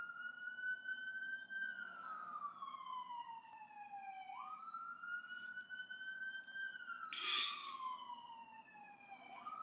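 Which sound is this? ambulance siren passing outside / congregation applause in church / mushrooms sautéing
ambulance siren passing outside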